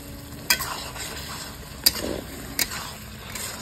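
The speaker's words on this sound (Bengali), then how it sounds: "চামচ করে ঘেঁটে দিই" A spoon stirs a vegetarian cauliflower and potato curry in a pan, giving three sharp scraping knocks over a faint, steady sizzle.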